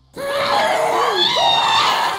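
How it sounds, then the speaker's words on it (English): Screaming in the Minecraft video game, a loud, sustained wailing scream that starts abruptly and holds with rising and falling pitch for about two seconds, close and alone. "I just heard that, all this screaming."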